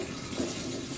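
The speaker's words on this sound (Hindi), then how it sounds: "खोलो, टूटी खोलो, पानी आया।" Water pours steadily from an opened steel tap, a continuous close rushing splash with no pauses.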